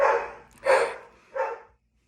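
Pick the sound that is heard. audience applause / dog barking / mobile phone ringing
dog barking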